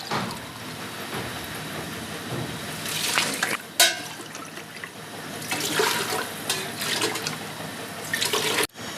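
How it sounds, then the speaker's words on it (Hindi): Water is poured from glasses into a large pot of mutton haleem, the stove switched off, making a steady splashing, gurgling flow with a few louder surges, close by and with no talking. "अब इसके अंदर मैं 15 गिलास पानी डालूंगी।"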